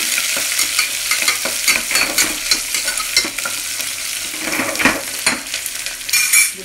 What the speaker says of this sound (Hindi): थोड़ा सा प्याज, मैंने अच्छे से प्याज को हिलाना।